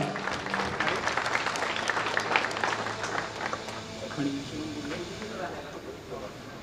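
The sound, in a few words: loud applause from the audience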